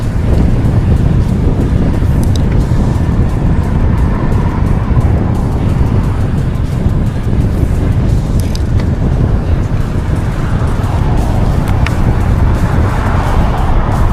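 Strong wind roars across the microphone during a road bike training ride on a Trek Madone SL 6 Gen 8, a loud, constant buffeting rumble that never lets up.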